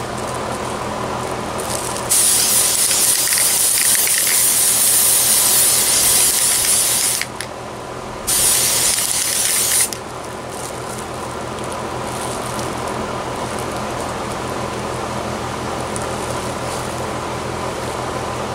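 Two bursts of hissing aerosol primer spray onto an assembled miniature model, the first about five seconds long, then a brief pause and a shorter second burst, over a steady background hum.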